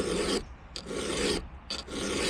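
Hand file sharpening the teeth of a full-chisel Husqvarna C83 chainsaw chain, with three close, steady rasping strokes separated by brief pauses.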